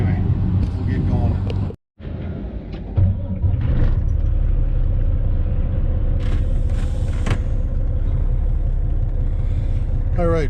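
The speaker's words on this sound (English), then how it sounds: "Just fired up the truck." Truck engine idling after being fired up, a steady low rumble close by with a brief cutout near the start, while people talk over it.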